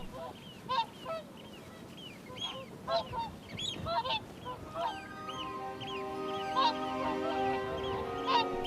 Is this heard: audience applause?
no